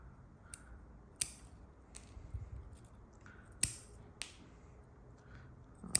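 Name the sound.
cutting a Japanese maple bonsai branch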